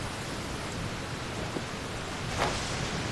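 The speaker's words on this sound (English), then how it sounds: "With rain this heavy, not only are the stars clouded, so too is my scryglass hazy." Heavy rain pours steadily in a video game storm, a dense continuous hiss, with a sharp crack of thunder bursting out near the end.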